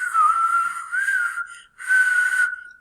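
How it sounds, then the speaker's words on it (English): A whistle sounds in two long steady tones separated by a short gap, a clear sustained pitch with a slight wavering, close and loud with no talking. "And you can use a whistle."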